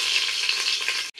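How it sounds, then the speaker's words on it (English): Onions frying in hot oil in a sufria give a steady, close, loud sizzle that cuts off abruptly near the end, then resumes briefly. "you put the onions inside the sufria containing the oil"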